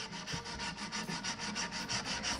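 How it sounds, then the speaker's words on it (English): Rhythmic back-and-forth rasp of sandpaper being rubbed by hand over wood, about five strokes a second, close and steady, no talking. "I'm just gonna hand sand it"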